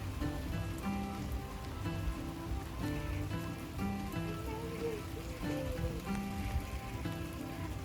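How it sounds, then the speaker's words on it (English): Summer rain falls steadily on a garden, making a dense, even patter of drops that runs unbroken from start to finish at a soft, constant level. "It's raining, but it's humid because it's summer."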